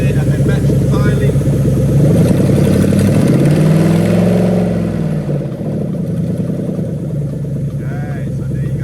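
A Lexus 1UZ-FE V8 engine, run on a Haltech Elite 950 harness, revs up and settles back down to a steady idle, a loud, close mechanical drone with a voice talking over part of it.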